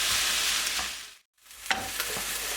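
A spice mixture with ground ginger for samosa filling sizzles in a pan and is stirred. The hiss cuts out briefly midway, then returns with several close scraping knocks, and no one speaks.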